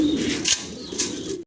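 Pigeons at a large Bangladeshi pigeon farm, a close, full cooing call with soft rolling coos and a couple of brief wing or chirp accents, about a second and a half long.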